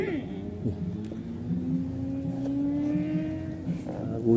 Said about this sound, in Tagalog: Gulat naman yung motor na yun.